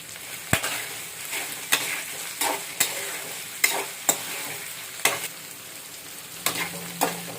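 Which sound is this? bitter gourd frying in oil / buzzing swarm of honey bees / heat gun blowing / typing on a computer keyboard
bitter gourd frying in oil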